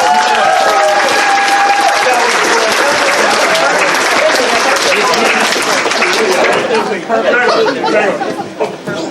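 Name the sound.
audience applause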